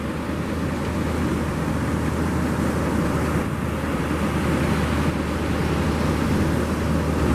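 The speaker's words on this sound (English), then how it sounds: "Look at these waves." Ocean surf at the St Lucia estuary in iSimangaliso, a constant broad roar of breaking waves, loud and unbroken with a steady wash and no voices.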